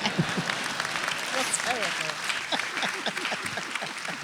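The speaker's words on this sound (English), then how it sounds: "So if you're going to clap at this moment, please do." Audience at a film festival talk claps in a scattered, moderate burst that continues under voices speaking throughout.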